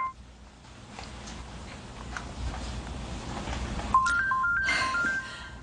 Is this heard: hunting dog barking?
no